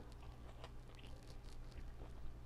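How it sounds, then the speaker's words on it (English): Close, faint crunching of a small spiced snack being chewed, with soft irregular bites and crunches over about two seconds and no talking. "I'll take a little small one and just pop that right in my mouth."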